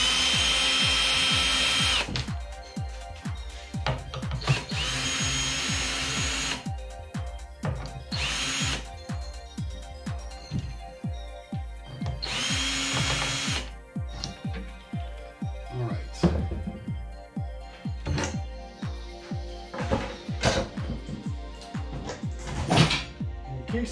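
A power drill in short bursts backs screws out of a coin pusher arcade game, broken up by clunks and rattles of panels and parts being handled between the runs.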